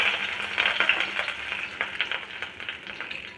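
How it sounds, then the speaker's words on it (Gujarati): Mustard seeds crackling and popping in hot oil for tempering Gujarati kadhi, a dense, steady sizzle with quick bright crackles throughout, close and fairly loud. "આપણી રાઈ તતડી ગઈ છે"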